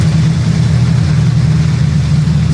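Police car engine in the Car Crushers 2 video game, a loud steady low idling rumble with a constant hum, unchanging and alone for the whole stretch.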